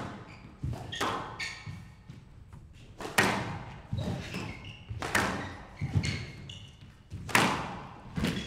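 A squash ball in a professional PSA World Championship match in Qatar is struck against the court walls, giving sharp, echoing thuds and smacks in an irregular rally rhythm of about seven hits, with faint crowd and court ambience between them.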